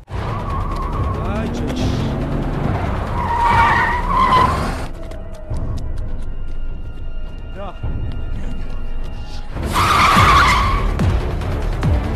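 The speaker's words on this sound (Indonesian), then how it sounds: "Kejar-kejaran mobil hingga lari pun terjadi." Tires skid and squeal in a car chase from a yakuza gangster film, two long shrieking bursts at the start and end with a lower rumbling lull between, loud and close.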